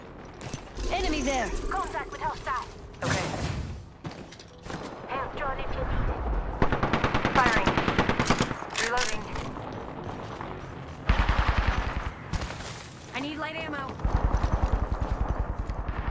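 Enemy gunfire in a video game firefight arrives in repeated loud bursts and scattered shots, interleaved with game voice lines and effects.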